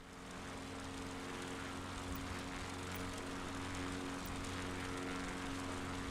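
A propeller plane's engine drones steadily in a flight simulator game, a continuous, even buzz that holds at the same level throughout with no voices.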